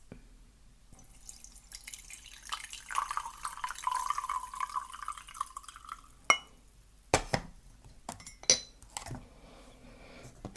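Green tea being stirred in a teapot: soft liquid swirling and dripping followed by a few sharp clinks of a spoon against ceramic, quiet and close, with no voices.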